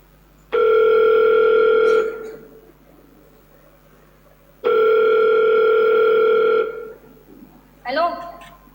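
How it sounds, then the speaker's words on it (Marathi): A telephone line gives two long, loud, steady tones separated by a pause, then a voice starts speaking right after. "या रम्याला फोनच लावायला हवा."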